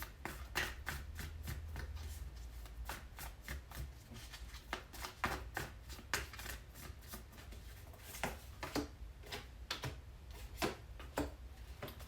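A deck of tarot cards is shuffled quietly and continuously, with rapid riffling flutters and soft repeated card slaps throughout, close but faint, with no talking.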